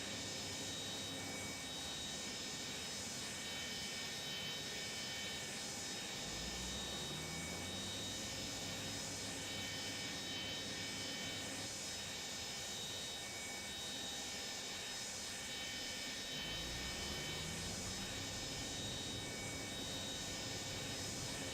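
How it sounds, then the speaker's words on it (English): Boeing 727F freighter jet taking off in Microsoft Flight Simulator, a steady loud engine roar filling the whole stretch with two rising low whines as thrust builds down the runway. "Let's listen to this takeoff here."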